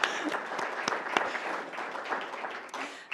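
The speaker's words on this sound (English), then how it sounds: "you can hold your applause" A room of chamber-of-commerce attendees claps steadily at a business breakfast, a dense, even patter of many hands sustained for about three seconds at moderate distance.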